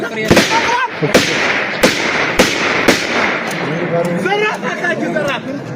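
About six sharp gunshots ring out at a steady pace at a hero's funeral, loud and close over a crowd chanting and chattering throughout.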